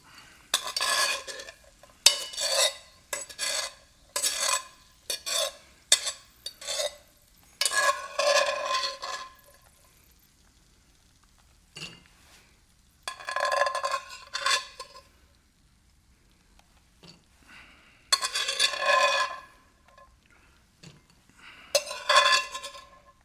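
Metal slotted spoon scraping and clinking against a pan while cooking cashew chicken, in loud irregular bursts of rasping strokes with quiet gaps between, close up and with no talk.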